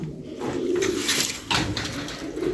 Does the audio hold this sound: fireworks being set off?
no